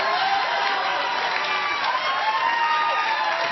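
A studio audience at a late-night comedy monologue cheers and whoops loudly and continuously, with scattered applause under the roar.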